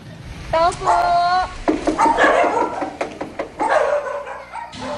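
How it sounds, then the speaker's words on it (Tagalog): Dogs bark and yelp in several overlapping bursts, fairly loud and nearby, with some whimpering mixed in. "Maliban sa tahol ng mga aso"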